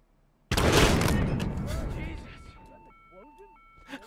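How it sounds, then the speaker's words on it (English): In the Hitman video game, a sudden loud explosion booms and then fades into a long rumbling tail, after which electronic beeping tones follow. "Was that an explosion?"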